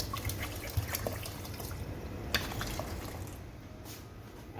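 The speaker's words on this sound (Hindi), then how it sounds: "और 3 कप मैं इसके अंदर पानी ही ऐड कर रही हूँ।" Water is poured into a pot of sugar to make falsa syrup, a soft continuous trickle and splash with a few small drips, close and fairly quiet, with no talk.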